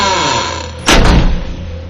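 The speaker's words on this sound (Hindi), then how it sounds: "दरवाजा बंद हो गया।" A horror-story door slams shut with one heavy, booming thud over a low droning rumble, then the rumble carries on.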